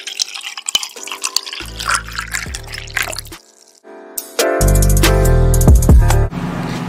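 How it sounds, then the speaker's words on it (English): Hot water pours into a container of Ayurvedic herbal tea mix, with drips and trickles giving way to a louder, steady filling stream close by, then tapering off. "The next thing I'll be adding is hot water."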